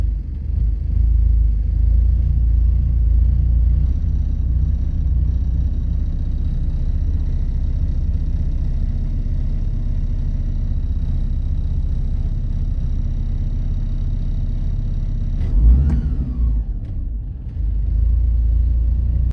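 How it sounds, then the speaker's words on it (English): Porsche 944 Turbo engine idles steadily after a cold start, a deep, constant low rumble heard close up, with a brief louder swell and a faint whine late on, no voices. "The idle settles right in at around 950 RPM at cold start"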